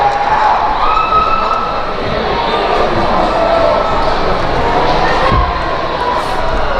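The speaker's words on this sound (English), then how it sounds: "Crowd into it now." A crowd cheers and roars at a 2018 Moffat County high school girls' basketball game on a Friday night, a loud, unbroken gym din with shouts rising over it.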